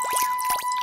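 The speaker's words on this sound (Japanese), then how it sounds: "よし、お水で洗い流そう" Water pouring over a foam-covered Cure Wing toy to rinse it, heard as a short run of close, quick drips and splashes with a faint steady whine running underneath.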